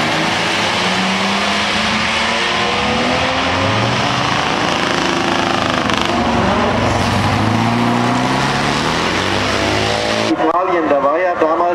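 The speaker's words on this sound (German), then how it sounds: "normalerweise müsste er ein 440er Magnum drin haben. Bedeutet 7206 Kubikzentimeter und 375 SAE PS." Big American car with a 440 Magnum V8 of 7206 cc and 375 SAE hp on the Hamburg Stadtpark track, a steady loud engine drone with hiss throughout and a sharper passing rise near the end.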